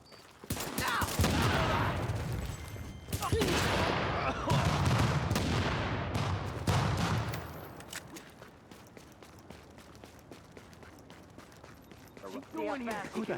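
Video game gunfire comes in loud, dense bursts of rapid shots and blasts, then thins into scattered, fainter pops, with voices talking over parts of it.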